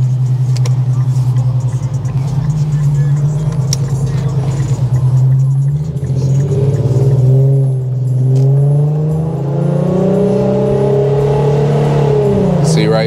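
An Infiniti Q50S with a VR30 engine and a faulty, jerky transmission drives along. The engine drone climbs and drops as it shifts, with a few rising sweeps and a steady road rumble. A voice speaks now and then.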